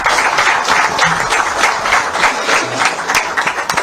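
Applause from an audience at a BJP office event with Madhya Pradesh Chief Minister Mohan Yadav, honouring a participant; steady, dense clapping that fills the whole stretch, fairly loud and close, with no talk over it.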